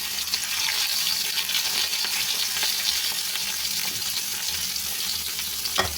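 Bitter gourd fries in a small amount of oil in a pan, giving a constant, even sizzle and hiss throughout, close and uninterrupted by voices, with one faint clink at the end.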